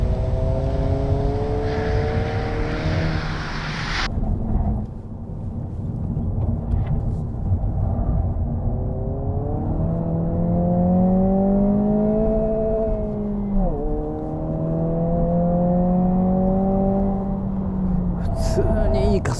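A US-spec Honda Civic Si with a 1.5-litre turbo engine and Spoon modifications accelerates hard through the gears, revs climbing steadily and dropping at each shift, loud and close from inside the car.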